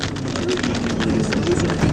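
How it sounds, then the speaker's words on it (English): Heavy rain pounds down during a tornado storm chase near Joplin, a dense, steady roar of rainfall that fills the whole moment without letup. "So it's behind this wall of rain."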